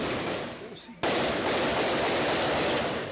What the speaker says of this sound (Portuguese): Os assaltantes efetuaram vários disparos e assustaram a cidade de Vidal Ramos